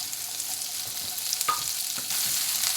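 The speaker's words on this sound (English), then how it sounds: "Get them all tossed around in that grease first." Finely diced russet potatoes fry in hot bacon grease in a skillet, a steady close hiss with a few soft scrapes and pops as they are tossed, no voices.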